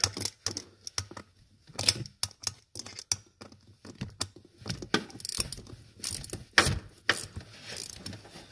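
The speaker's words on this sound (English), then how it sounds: "And this ratchet helps." A hand ratchet works bolts on a Bronco truck, with close, crisp clicking bursts of quick pawl ticks that repeat in short runs and small gaps between them.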